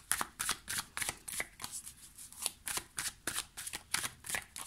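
Tarot cards shuffled by hand, a steady run of crisp riffling bursts repeating about twice a second, close and fairly quiet, with no talking.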